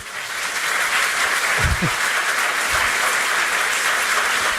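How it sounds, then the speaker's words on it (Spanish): A church congregation applauds during a worship service, a dense, steady roar of many hands clapping that fills the whole stretch at even loudness, with a couple of brief low thumps partway through. "¿Cuántos les damos un aplauso al Señor Jesucristo?"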